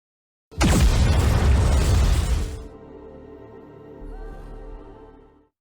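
A massive weapon blast from Eden's Spear in the game NIKKE, a loud roaring explosion that booms for about two seconds before settling into a low rumbling tail with a faint hum.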